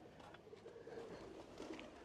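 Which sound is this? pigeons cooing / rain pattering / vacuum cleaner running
pigeons cooing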